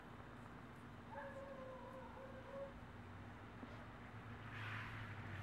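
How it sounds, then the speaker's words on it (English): A dog whimpers and yips softly in a garden, a few thin high whines close together early on, faint against the background. "She's a funny dog."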